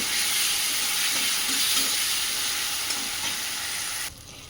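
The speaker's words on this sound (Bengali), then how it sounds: "সেই সর্ষে জিরে আর কাঁচা লঙ্কা বাটাটা দিয়ে দিলাম দিয়ে এটাকে আমি ভালো করে কষিয়ে নেব" Mango stir-fries with a mustard, cumin and green chilli paste, giving a dense close sizzle with light stirring scrapes that drops off sharply near the end.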